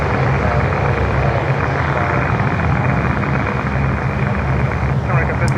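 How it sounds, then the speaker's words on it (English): A LATAM Boeing 787 Dreamliner airliner from Buenos Aires passes, a loud, steady roar that holds throughout, heard alone. "There comes the Dreamliner."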